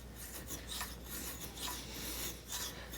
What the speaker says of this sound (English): This is that piece of teak that I was rounding over with the shave, so let's come back here and try to clean it up and square that side again.